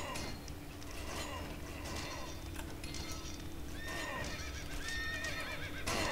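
Horse neighing and whinnying in a zombie-battle video game, with clip-clopping hooves and repeated whinnies over a busy, continuous game soundscape.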